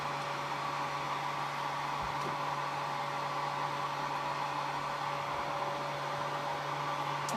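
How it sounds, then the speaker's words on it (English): A hair dryer blows steadily and close, a constant whooshing roar with a faint motor hum and no change in level. "I have another hairdryer upstairs, but I bought this one solely for this purpose."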